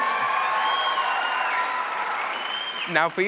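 A conference crowd at the EAST Conference 2025 opening session gives a big round of applause for an honoree, sustained and even, with sustained tones underneath and a speaker's voice breaking in at the very end.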